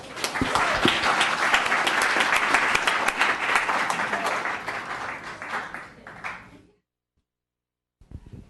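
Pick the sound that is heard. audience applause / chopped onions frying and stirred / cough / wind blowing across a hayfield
audience applause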